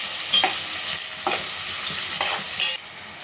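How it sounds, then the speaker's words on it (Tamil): Okra (vendakkai) frying in a pan for egg rice, a steady broadband sizzle with several louder stirring scrapes spaced about a second apart, close and alone. "இப்போது வெண்டைக்காய் ஃப்ரை ஆகிடுச்சு"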